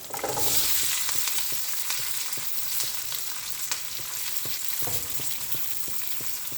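Shallots, green chillies and curry leaves fry in hot oil with a loud initial hiss that settles into a steady sizzle, with light crackles and occasional stirring clicks.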